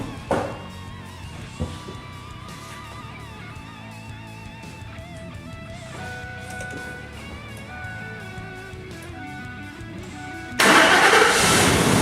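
A 4-cylinder car engine with newly installed MSD ignition coils cranks, then fires up near the end into a loud, steady running roar after a stretch of quieter workshop noise.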